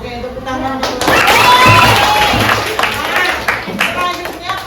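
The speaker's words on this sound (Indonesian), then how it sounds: "Oke, tepuk tangan dulu." A class of pupils clapping their hands together in a classroom, a dense, ragged burst of applause that swells and then thins out, with voices talking over it.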